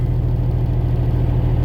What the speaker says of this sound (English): I had to crank the truck back up, so forgive the noise